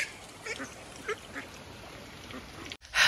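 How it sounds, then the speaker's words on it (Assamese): Ducks, part of a small flock of farm-raised birds, give a few faint scattered quacks against low outdoor background noise, ending in a brief louder burst. "এইফালে চাওক হাঁহখিনি কেনেকুৱা লাইন হৈছে"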